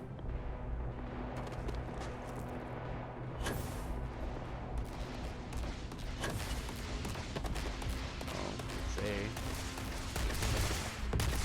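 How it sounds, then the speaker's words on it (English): Gunfire at a firing range in the video game Starfield, dense rapid shots crackling continuously over a steady rumbling background, moderately loud throughout. "People shooting."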